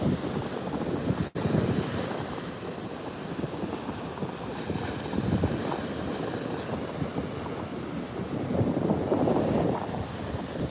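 Ocean surf washes steadily onto an agate-strewn beach, a continuous rushing roar that swells and eases over several seconds, heavily mixed with gusty wind buffeting the microphone and no voices.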